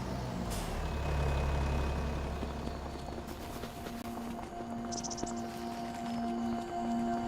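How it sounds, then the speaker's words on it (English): A heavy vehicle engine rumbles steadily and close, with a deep idle drone, a sharp hiss of air, and a few faint beeps. "I hate the sound of this car."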